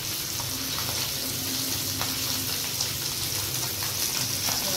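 Fresh mudskipper fish (nivtya) fry in oil in a pan on a high gas flame, a dense, continuous sizzle with occasional sharp pops, close and unbroken, with no one talking.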